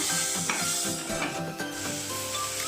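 Tomatoes with fresh coriander and mint being stirred in a hot pan, a steady close sizzle with soft scraping and rubbing strokes running throughout.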